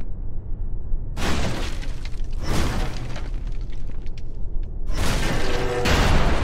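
Something is smashed in the video game Contrast, with Dawn breaking through: several loud, crashing shatter bursts come in quick succession over a steady low game backdrop, with no one talking.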